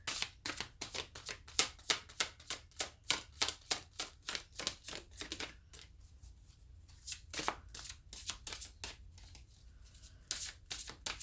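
Archangel oracle cards being shuffled, with a quick run of crisp riffling flicks, a brief pause, then further bursts of shuffling, close and clear with no voices.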